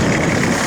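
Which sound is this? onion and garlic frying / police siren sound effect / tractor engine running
tractor engine running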